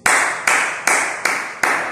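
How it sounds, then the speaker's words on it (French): Audience at a motivational talk clapping in five sharp, evenly spaced unison claps, each quickly fading, with no talk over them. "Applaudissez pour nous"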